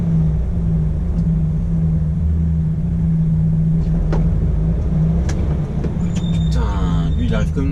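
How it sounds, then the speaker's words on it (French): A motor scooter engine rises and roars past close by, a loud buzzing whine over road rumble and idling traffic. "Il arrive comme une balle le scooter là, il m'a fait peur."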